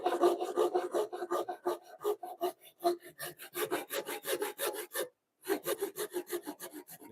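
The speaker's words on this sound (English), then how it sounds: "I could clean that up. Do that with a chisel." Hand chisel paring and cleaning up a wooden joint shoulder: quick, close scraping strokes in a steady rhythm, each a short dry rasp, with one brief pause near the end, and no talking.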